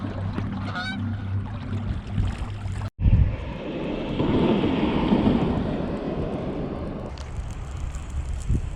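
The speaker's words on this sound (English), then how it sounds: "We've also got some gooses out there." Geese honking outdoors on a winter bass-fishing day: several clear honks near the start, then a steady rumbling roar like an engine or passing aircraft dominating the rest, with no talk.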